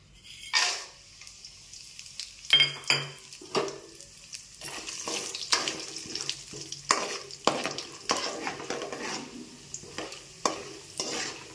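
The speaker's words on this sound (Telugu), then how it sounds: "ఆయిల్ హీట్ అయ్యాక తాలింపు గింజలు" Repeated crackling sizzles and sputters of tempering seeds popping in hot oil for upma, with occasional stirring scrapes, close and steady over about ten seconds.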